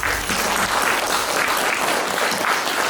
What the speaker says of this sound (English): Let us give a big clap.